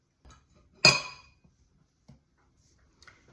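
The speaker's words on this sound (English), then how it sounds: "what we're going to do is remove the bowl" A stand mixer bowl being lifted off in a kitchen, one sharp metallic clank with a short ring, followed by a few faint knocks in an otherwise quiet room.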